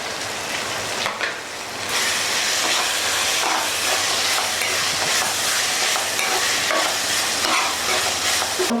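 Boneless chicken pieces, cooked beforehand and added to a spice mixture, fry in a pan with a continuous loud hiss and sizzle, with occasional stirring scrapes and no talking.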